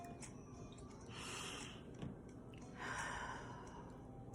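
A slow deep breath, drawn in and then let out as a soft airy sigh, heard twice, close and quiet with no talk.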